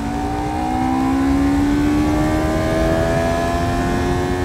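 A Kaiyue 321R sport motorcycle accelerates from low revs. The engine drones loud and close with a steady, slowly rising pitch throughout, with no talking.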